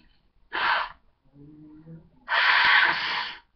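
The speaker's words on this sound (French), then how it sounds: "on va se moucher le nez" Two forceful nasal blows into a tissue, short then longer, with a faint murmur of a voice in between.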